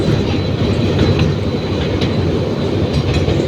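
A toy train carries riders through Surya Sen Park, its steady rumble and clickety-clack of wheels loud and close throughout, with no voices.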